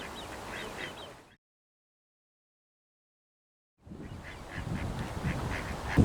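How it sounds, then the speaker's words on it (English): Ducks quack at a pond where people are fishing during a match, with repeated calls in two bursts separated by a stretch of near silence, and the later burst is louder and busier. "It's very good of you to feed the ducks, Dave."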